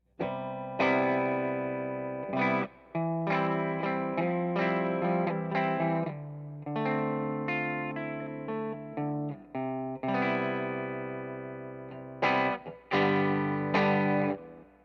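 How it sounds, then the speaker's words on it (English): Electric guitar played through a 3rd Power Kitchen Sink 6VEL amp on its brownface channel, a tweed-like tone with mild drive, chords and phrases ringing out one after another with short gaps, alone and up front. "So let's check out the brown face now. And that's more of a tweed kind of sound."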